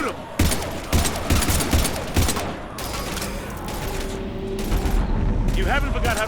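Heavy gunfire from Mass Effect 3 combat against Husks: repeated loud bursts and booms in rapid succession, dense and continuous, with shouted voices mixed in among the shots.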